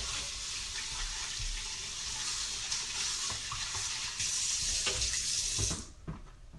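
Hot tap water runs steadily into a sink as something gets washed out, a close, continuous rushing splash that stops abruptly near the end, leaving a few drips and clatters.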